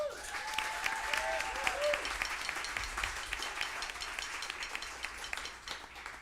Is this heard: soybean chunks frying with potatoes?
no